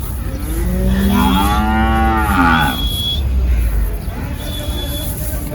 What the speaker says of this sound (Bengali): এখানে একটা ছোট সাইজের কালো গরু প্রচুর গরু পাওয়া যায় আসলে গরুর হাটে